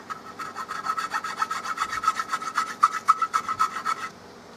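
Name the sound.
chainsaw file filing a rifle stock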